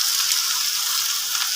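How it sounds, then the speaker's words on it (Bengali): Ash gourd pieces dropped into hot oil tempered with cumin seeds give a loud, close, continuous sizzle with bright crackling throughout. "প্রথমে একটু জিরে ফোড়ন দিয়ে নিয়েছি, দিয়ে এবার চাল কুমড়োটার মধ্যে দিয়ে দিলাম।"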